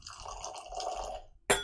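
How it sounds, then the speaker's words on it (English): Whisky poured into a glass, a short trickling, gurgling liquid flow lasting just over a second, close and fairly quiet, ending in a sharp knock. "Let's pour that glass."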